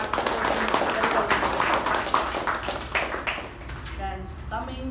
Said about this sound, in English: A round of applause for all the table topic speakers also for participating very well.